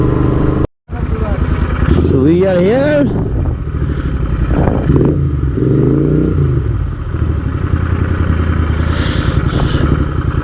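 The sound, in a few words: motorcycle engine running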